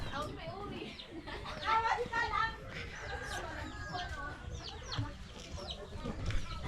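Chickens cluck and call in a busy outdoor yard, the fowl sounds scattered among overlapping voices of people talking and children nearby.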